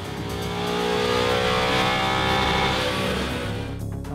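A car on a chassis dyno, shod in drag radial tires run at 23 PSI, revs hard through a full pull: a loud, sustained engine roar whose pitch climbs steadily, then eases off at the very end.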